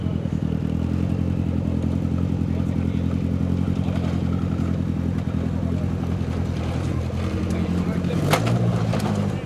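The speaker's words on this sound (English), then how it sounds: "Barry Drenth and Brendan Grid head down in a brand new vehicle." A brand-new 4x4 off-road vehicle at a Maxxis 4XTR event in Parys, 2014, driving down the course, its engine a loud, steady rumble with clattering and a brief sharp knock near the end, under a commentator's voice.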